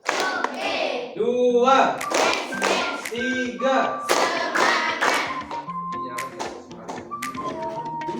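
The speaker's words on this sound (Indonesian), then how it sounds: "Tepuk satu coba. Tepuk satu." Children playing a counting clap game, clapping their hands in sharp, close, rhythmic bursts mixed with chanting voices and an adult speaking in between.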